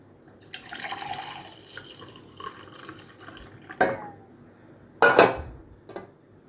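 Milk pours and splashes into a container, with a few sharp clinks of a vessel, close by and with no speech.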